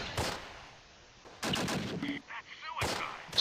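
Gunfire in the WWII strategy game Close Combat: Last Stand Arnhem, with three loud bursts of shots spaced apart, the later ones mixed with crackling battle noise and faint distant reports.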